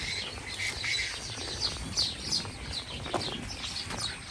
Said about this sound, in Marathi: मस्त पक्षी आहेत